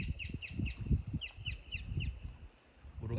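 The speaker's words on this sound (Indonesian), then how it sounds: "Burung apa itu ya?" Birds calling outdoors in Biak, a series of repeated harsh crow-like caws in quick rhythmic bursts over a low rumble of wind and movement, with a brief pause before more sound at the end.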